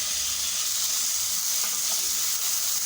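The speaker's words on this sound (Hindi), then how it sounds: "चिकन को हल्का सा फ्राई करना है।" Chicken pieces frying in a tablespoon of oil with onion in a pan, giving a steady, close hiss of sizzling that holds even throughout with faint stirring clinks.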